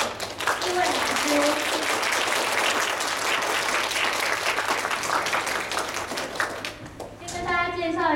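An audience at a cello concert gives a long round of applause to welcome four teachers, dense close clapping with a voice speaking over it, tapering off near the end.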